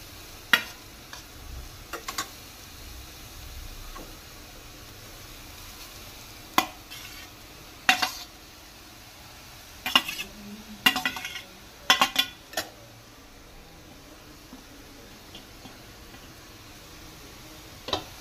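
Grated carrots for gajar halwa cook slowly in a pan over a low flame, giving a soft, quiet sizzle broken by a handful of sharp spoon scrapes and clinks as they are stirred.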